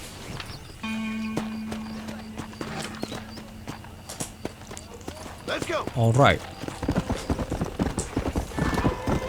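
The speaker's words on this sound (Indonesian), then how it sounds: "Gua ambil kuda dulu." Horse hooves clip-clopping in the Western video game Red Dead Redemption, a steady walking rhythm with a whinny partway through and game music in the background while someone talks over it.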